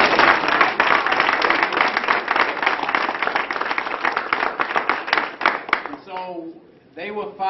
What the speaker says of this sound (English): give Attorney Fred Gray another round of applause.